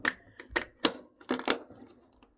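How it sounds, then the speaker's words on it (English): Sharp plastic clicks from the buttons of a SmartPendant kit during assembly, about half a dozen close, crisp clicks in an uneven rhythm, with no talking. "top button is clicking, side button is clicking, and everything works together"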